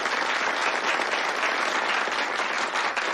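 An audience of Friends of the Soviet Union members applauds a comrade in a film scene with dense, steady clapping that holds at an even level throughout.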